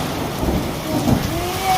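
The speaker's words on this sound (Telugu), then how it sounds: "భయపడుతుంది ఉరుముతుంది అంతా" Steady rain hisses throughout a thunderstorm, with a low rumble of thunder swelling briefly in the middle, heard outdoors where friends had been playing cricket, no clear speech.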